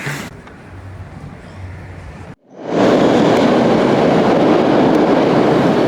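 A Boston subway train on the Orange Line rumbles loudly, quieter carriage noise giving way after a brief gap to a sustained, roaring rush of wheels and wind close by.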